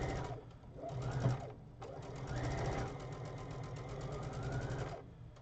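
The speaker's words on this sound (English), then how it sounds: "is to sew anything that's smaller than a 12-inch block into a 12-inch block" A sewing machine stitches 12-inch quilt blocks, running in a close, steady mechanical whir with a brief pause before it starts up again.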